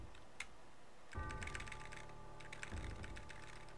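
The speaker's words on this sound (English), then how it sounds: "I'm gonna do the keyboard." Typing on a computer keyboard while playing Final Fantasy 7, a steady patter of quick, light key clicks that grows busier partway through, faint and close over a low background hum.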